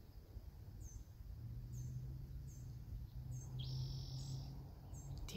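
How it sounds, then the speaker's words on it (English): Small birds chirp repeatedly in short, faint, high calls over a low outdoor rumble on a nature walk, with one longer sustained note partway through and no voices. "I hear lots of birds."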